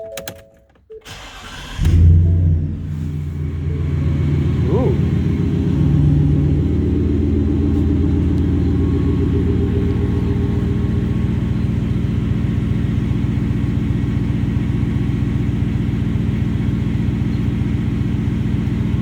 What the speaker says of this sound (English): So let's start it up. See what it sounds like.